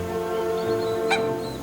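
Geese call on a mountain plantation, a drawn-out honking cry with one sharper squawk near the end, fairly close over a steady background drone, no talking.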